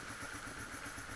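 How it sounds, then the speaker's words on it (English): A motorcycle idles slowly and unevenly on a cold start, close to the microphone, in a brief continuous stretch with no talk over it. "it's idling really slow, it might cut out"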